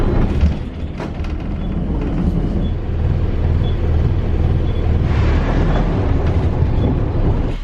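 Riding a bus in Wales, a constant low engine rumble and road roar fills the cabin with rattles and small knocks, loud and unbroken with no talking.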